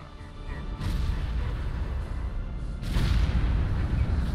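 Mines detonating in the Warhammer 40k Kill Team game, low rumbling booms with two distinct surges swelling over a dense, continuous roar, fairly loud.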